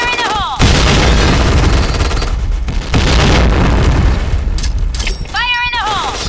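Grenade explosions in the online shooter Point Blank, heavy booms packed together with bursts of gunfire and a loud, continuous battle din, with shouted voices breaking in near the start and end.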